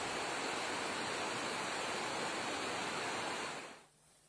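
Rushing floodwater after heavy rain surges as a loud, dense, steady roar, then cuts off abruptly near the end.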